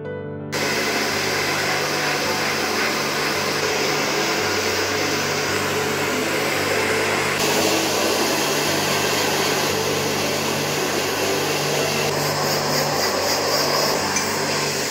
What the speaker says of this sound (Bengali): তারপরে হেয়ারটাকে সুন্দর করে ড্রায়ার দিয়ে ড্রাই করা হবে